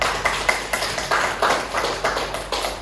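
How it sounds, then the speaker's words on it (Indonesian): A classroom gives a round of applause for the students who answered, several seconds of brisk, fairly loud clapping from a small group with no one talking. "Boleh berikan aplaus dulu bagi teman-teman tadi yang menjawab"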